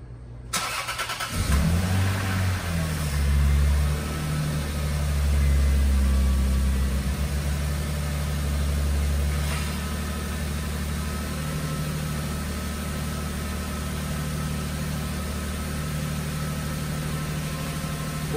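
A Lexus IS300 with a 2JZ-GE engine cranks and catches, then settles into a steady, low idle that rumbles on evenly for a long stretch.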